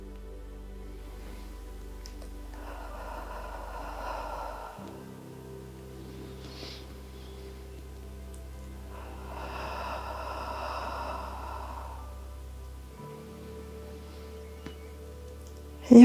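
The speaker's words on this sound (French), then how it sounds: "Inspirez bien. Soufflez. Effectuez quelques respirations dans cette posture." Slow, deep breathing during a yoga posture, two long soft airy exhalations audible close to the ear, each lasting a couple of seconds, with quiet pauses between.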